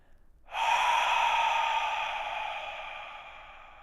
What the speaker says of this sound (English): one conscious breath in. Open your mouth and exhale.